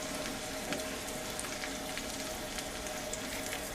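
Raisins and cashews frying in a pan for sweets, a steady close sizzle and crackle throughout, with no talk.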